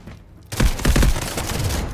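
G18 pistol firing in a video game: after a quiet half second comes a loud, rapid automatic burst of shots that blurs into a dense rattle and keeps going to the end.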